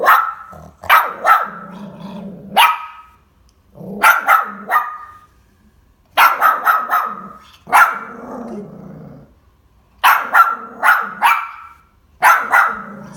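A dog barks and growls in loud, close bursts, several sharp barks per burst, separated by short silent gaps, with low growls between some of them.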